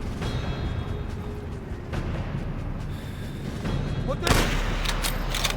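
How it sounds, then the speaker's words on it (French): A burst of gunfire crackles near the end after a stretch of steady rumbling ambience in Call of Duty: World at War, sharp broadband bangs standing out over the background. "On dû entendre les coups de feu!"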